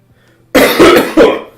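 A sudden harsh cough, two rough bursts in quick succession, loud and close after a moment of quiet.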